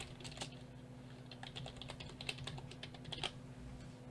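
Quiet, rapid keystrokes on a computer keyboard as an email address is typed into a newsletter subscription form, a run of light clicks with a few sharper taps, close and without speech.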